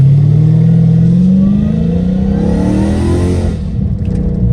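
Dodge Hellcat Redeye engine roaring loud and close as it accelerates through paddle-shifted upshifts, the pitch climbing steadily before the revs drop off near the end.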